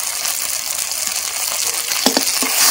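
A ground spice paste with salt, turmeric and a little water fries in a pan for chicken biryani, giving a steady, close sizzle with a few faint stirring clicks.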